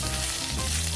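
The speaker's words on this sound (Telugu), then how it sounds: "కొద్దిగా మెత్తబడేంత వరకు ఒక 2 నిమిషాలు కలుపుకుంటూ వేయించుకోవాలి." Chopped onions fry loudly in hot oil for tomato chutney, a dense, steady sizzle filling the whole second with no voices.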